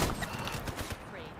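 Video game gunfire, a rapid burst of shots at close range, runs over steady game noise and a voice.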